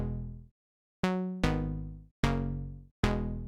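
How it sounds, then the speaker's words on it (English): Basic sawtooth synth chords are played as five separate held stabs with short gaps, each one bright and buzzy and fading away, heard clean and alone. "just some basic saw chords"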